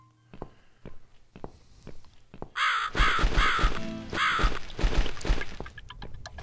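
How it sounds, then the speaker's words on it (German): A crow caws in the horror video game The Cat Lady, several rough repeated caws amid thuds and footsteps, fairly loud and close with no talk. "Sehr merkwürdig, der Vogel fliegt wieder zurück."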